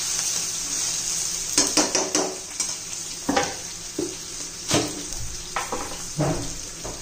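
Diced potatoes fry in hot oil for sabudana khichdi with a steady sizzle, broken by repeated scraping stirs of a spatula against the pan at an irregular rhythm.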